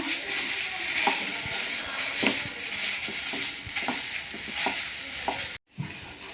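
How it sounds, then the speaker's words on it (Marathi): Khoa roasting in a pan over a low flame while a spatula keeps stirring it, with a continuous close sizzle and repeated scraping strokes, then a sudden brief cut near the end. No one speaks. "खवा आपल्याला बारीक गॅसवरती व्यवस्थित भाजून घ्यायचा आहे आणि सारखं हलवत राहायचं आहे"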